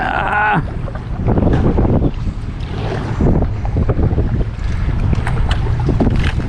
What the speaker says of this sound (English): Oh, the wind's blowing again.